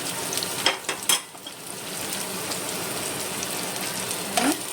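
Capsicum fries in a hot pan with a continuous hiss, with a few brief clatters of stirring near the start and again at the end.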